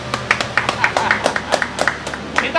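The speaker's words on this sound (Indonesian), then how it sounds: "Kita kasih tepuk tangan dulu." A live audience at a talk on electric vehicles in Indonesia claps briefly, with scattered, uneven hand claps at moderate volume that stay fairly close.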